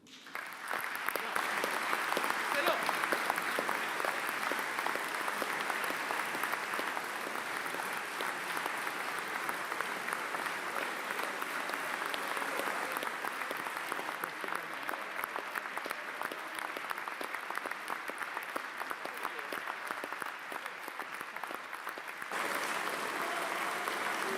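Sustained applause fills a session of the French Senate, a dense, steady roar of many hands clapping that holds at even loudness for over twenty seconds before thinning slightly near the end.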